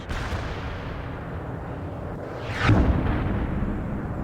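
In the strategy game World in Conflict, a rumbling battlefield bed gives way to a sharp rising whoosh of a missile launch with a heavy artillery thump, near and loud, followed by steady low rumble.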